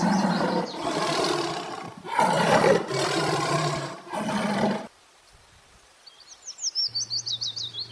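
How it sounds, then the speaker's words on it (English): Four loud, harsh tiger roars in close succession, then a quiet pause followed by a bright chirping bird-like call with a rhythmic low pulse. "T for tiger."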